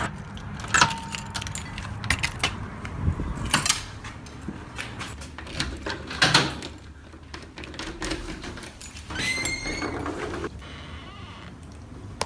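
Keys jangle repeatedly in bursts throughout a dark, quiet room during a spooky nighttime investigation, the metallic clinks fairly close and irregular against a low background rumble.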